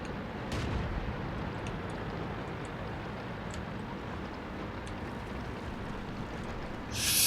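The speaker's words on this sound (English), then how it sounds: "There is artillery." Distant artillery fire rumbles through a continuous low battlefield din in World of Tanks, with a sharp burst near the start and another loud blast swelling at the very end.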